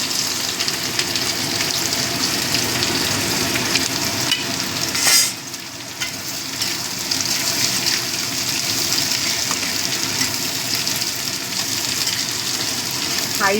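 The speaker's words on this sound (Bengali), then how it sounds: "এবার আমি পেঁয়াজগুলো দিয়ে দেবো।" Onions sizzle in hot oil for mutton biryani, a loud, continuous crackling fry with a brief stir or clatter partway through, steady and close throughout.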